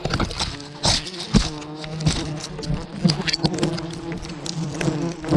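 A swarm of giant honey bees buzzes loudly and close, a dense droning hum with sharp rising whines as individual bees dart past, with rustling and scraping underneath.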